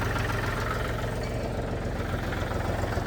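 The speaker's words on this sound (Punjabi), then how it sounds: "ਲੋ ਜੀ ਆਵਾਜ਼ ਸੁਣੋ ਟਰੈਕਟਰ ਦੀ" A Mahindra 275 tractor engine runs steadily at idle, a loud, low, rumbling chug that stays constant throughout with no voices.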